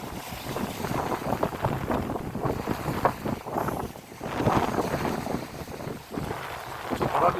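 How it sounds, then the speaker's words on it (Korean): Strong wind roars steadily at sea aboard a small fishing boat out for rockfish in rough waves, with gusting buffeting and water wash continuing throughout, loud and close, with no talk. "바람이 많이 불고 그 노을성 파도가 세서 그런지 몰라도"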